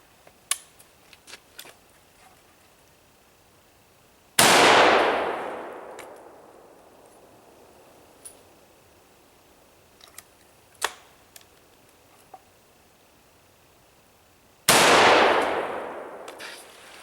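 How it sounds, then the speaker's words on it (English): Two loud, close rifle shots from a Rossi .243 Winchester, each a sharp crack with a long ringing decay, about ten seconds apart, with faint clicks and handling noises between them. "So I'm going to do 3 shots consecutively, see how fast I can go ahead and, you know, cycle this this Rossi right here"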